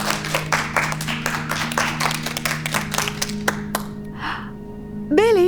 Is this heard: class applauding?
yes